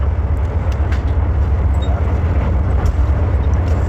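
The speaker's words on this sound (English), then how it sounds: "I think that is our train." A train pulling into a station, a loud steady low rumble of the engine with faint hiss and clatter over it and no voices.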